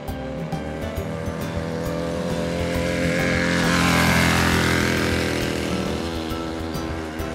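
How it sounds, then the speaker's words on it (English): An auto rickshaw passes by, its engine buzz swelling to a loud peak mid-pass and then fading away as it moves off. "Auto rickshaw"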